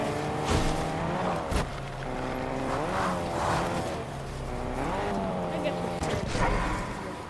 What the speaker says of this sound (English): Lamborghini, let's go.